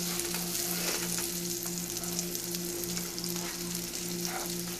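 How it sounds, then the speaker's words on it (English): Butter and onions sizzle and fry in a hot pan for a spaghetti sauce, a steady crackling hiss close by with a faint low hum underneath and no talking. "the butter's melting down and it's sizzling"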